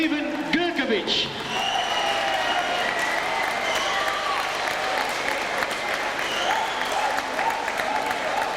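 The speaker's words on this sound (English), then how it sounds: "Please, everybody, stand up and applaud this gentleman, Mr. Stephen Gercovich." A large audience gives a standing ovation, with sustained, dense clapping that fills the room at an even level after a brief spoken introduction.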